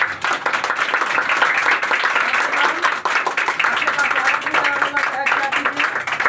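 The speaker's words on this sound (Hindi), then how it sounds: "कुछ बच्चे इसके लिए ताली बजाइए" A classroom of children claps together, a loud, dense run of quick overlapping hand claps that carries on steadily throughout, with faint voices underneath.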